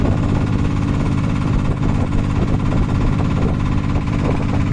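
A loud engine drones near the Magat Dam reservoir, a dense, heavy rumble with steady low vibration that stays constant and close throughout.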